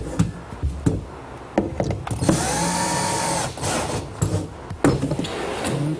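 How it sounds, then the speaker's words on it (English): A power drill bores a pilot hole through the front of a tray for a laundry center build, giving one steady whirring burst of a second or so, with scattered knocks and handling clatter before and after. "First I'll drill a pilot hole through the front of the tray."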